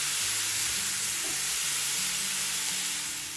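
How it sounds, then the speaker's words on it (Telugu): Onions and bitter gourd pieces frying together on a medium flame, a dense continuous hiss of sizzling oil that holds steady and close throughout, with no voices. "ఇలా కలుపుకుని మొత్తం మీడియం ఫ్లేమ్లో పెట్టుకుని వేయించుకోండి"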